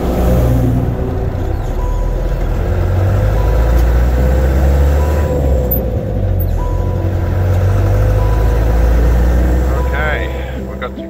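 A 6x6 Perentie truck engine idles in cold weather, giving a loud, steady, deep rumble that fills the whole stretch with only slight swells.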